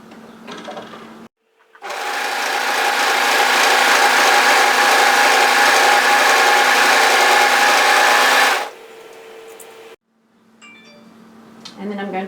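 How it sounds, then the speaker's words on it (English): An overlocker stitches a cardigan hem in one sustained, fast mechanical whir of several seconds, loud and close, starting and stopping abruptly between quieter pauses with fabric handling. "And then I'm going to continue overlocking down here."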